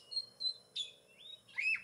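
Magpie robin (kacer) bird giving short, clear high chirps and whistled notes in quick succession, close and fairly soft against a quiet background, with no talk.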